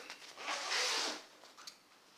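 Close up, a zipper is pulled along a worn guitar gig bag that is coming apart, with styrofoam padding inside. It makes one smooth, raspy zip lasting about a second, followed by a small click.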